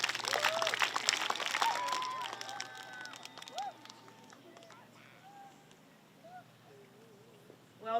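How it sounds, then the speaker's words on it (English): An audience at a school anniversary gathering claps together for a poet, a burst of applause that fades over a few seconds into quiet room sound, with a few scattered voices. "Let's give her 5 claps."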